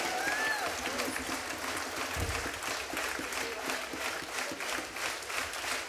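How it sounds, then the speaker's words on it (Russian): Sustained audience applause fills a concert hall after a performance by an orchestra of folk instruments with an accordion soloist, a dense, steady wash of clapping that holds evenly from start to finish. "Также можно подарить аплодисменты сегодняшней имениннице."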